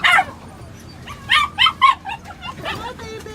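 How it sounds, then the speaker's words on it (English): Small dogs and puppies yip and bark in quick, high-pitched bursts nearby, with a few whimpers between them. "welcoming small dogs and puppies from Mobile, Alabama"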